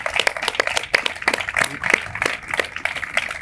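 Applause for the debaters Santiago Armesilla and Fernando Díaz Villanueva at a Hispanidad debate: a dense, steady patter of many hands clapping throughout, with faint voices mixed underneath.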